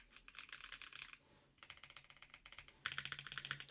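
Rapid typing on a newly built mechanical keyboard fitted with a different plate, a dense clatter of keystrokes with a brief lull, then louder, brighter bursts of clicks.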